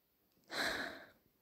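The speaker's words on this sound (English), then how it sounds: "Breathing." A single close, breathy exhale rises and fades over about a second, heard alone against near silence.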